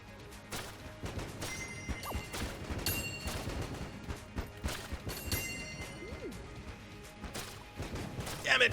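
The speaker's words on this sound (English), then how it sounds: "Since this fires explosive shots" Rapid explosive gunfire bursts and crashes in Enter the Gungeon, a dense run of close, punchy shots and impacts layered over game music.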